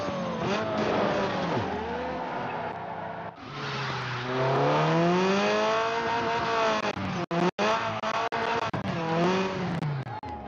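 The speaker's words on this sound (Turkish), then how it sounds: "Sesi araba özellikle çok uyumlu olmuş." Racing car engines rev and whine in the video game Need for Speed Underground 2, including a Dacia, pitch rising and falling through gear shifts, with tire squeals and a few sharp clunks near the end.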